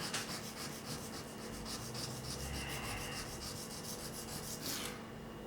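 A cheap metal ruling pen is rotated against a fine honing surface after filing, making a steady soft rubbing rasp with quick repeated strokes, faint and close, ending abruptly.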